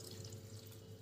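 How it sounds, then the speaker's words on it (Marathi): Water is poured into semolina for papad batter, a soft continuous trickle heard faintly and up close, with no talk. "ह्याच्यात आपल्याला 2 कप पाणी घालायचं आहे"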